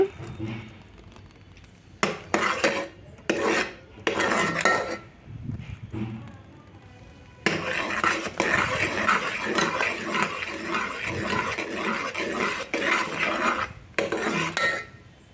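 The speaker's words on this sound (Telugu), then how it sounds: "అడుగు నుంచి మొత్తం తిప్పండి పాకం మాడిపోకుండా ఉంటుంది" A metal spoon scrapes and stirs roasted peanuts through sticky jaggery syrup in a pan for peanut chikki. Short, separated scraping bursts come first, then from midway the stirring runs steadily and close without a break.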